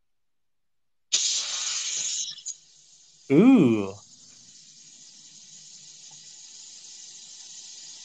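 Steam rushes out of a Crockpot Express pressure cooker during quick release of vegetable beef and barley soup, a loud sharp hiss that fades to a long, softer steady hiss, with a brief exclamation from a person partway through.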